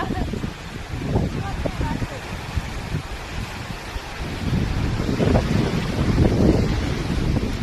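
Strong wind roars continuously on a farm, tangling trees and buffeting the microphone in heavy gusts that swell louder toward the end, with a voice speaking under the noise.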